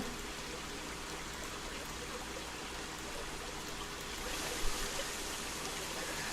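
A waterfall in a zoo-building video game pours in a steady, dense rush of splashing water, loud and even throughout with a slight swell near the end and no voices.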